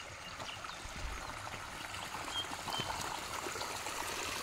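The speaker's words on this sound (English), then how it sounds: "So this is where all the streams are meeting." Stream water flows and trickles where several small streams meet outdoors, a steady, soft broadband babble with no talk.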